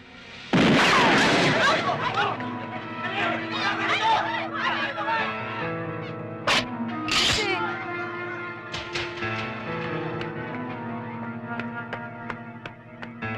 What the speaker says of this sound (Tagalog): Doon galing ang putok kay Mang Piping!